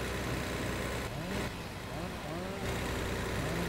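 A 6x4 truck engine in the video game My Summer Car drones steadily and rises and falls in pitch as it drives, moderately loud and continuous.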